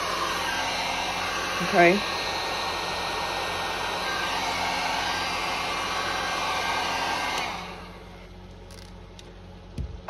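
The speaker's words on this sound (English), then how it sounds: "Let the heat gun do the work for you." A heat gun blows hot air steadily at close range while a trinket tray is being made, a loud continuous whoosh for about eight seconds before it cuts off; a voice speaks briefly.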